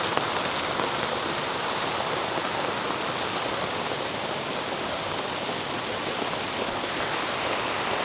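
Steady, dense rain drums on a camping tent at midday in Lembah Topidi, a constant close hiss that fills the whole stretch with no voices.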